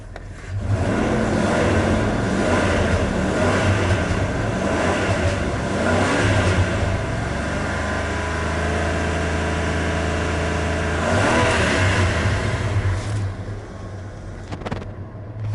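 A 1994 Dodge 1500 four-wheel-drive truck engine runs close and loud, rising through several revs and settling back toward idle over a steady rumble, with no voices.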